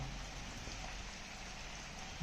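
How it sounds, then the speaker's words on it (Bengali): Soft, steady patter of light rain, an even hiss with no voices, ending in a brief low bump. "এই যে সামান্য সামান্য বৃষ্টি এখনও পড়ছে"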